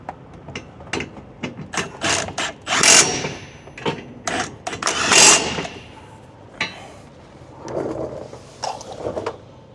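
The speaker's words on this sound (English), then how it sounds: "These are 1/2-inch nuts, so go ahead and tighten them down here with your impact." Impact wrench tightening 1/2-inch nuts while installing a B&W gooseneck hitch on a 2025 GMC truck, heard as repeated short ratcheting bursts of varying length with pauses between them, close by and fairly loud.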